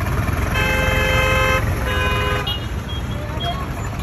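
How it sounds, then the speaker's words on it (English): Car horns in Indian road traffic near Ahmedabad toot repeatedly in long sustained blasts over a loud, constant roar of engines and road noise. "Everyone is honking."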